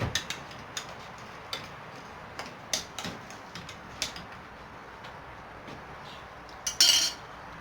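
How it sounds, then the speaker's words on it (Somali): A spoon clinks and taps against a pan while stirring a pasta sauce, producing a steady series of light metallic ticks at close range, ending in a brief louder scrape. "qaadada ayaan kusoo walaaqayaa"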